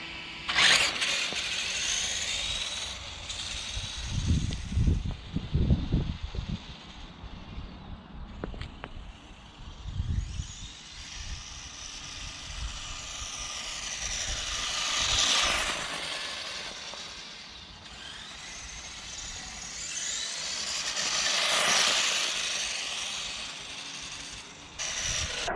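A brushless rear-wheel-drive WPL B1 RC car with a two-speed metal-gear gearbox and a small 25 amp ESC runs in bursts, its whining motor and gear chatter rising and fading as it passes near and away, with clattering mechanical rattles early on.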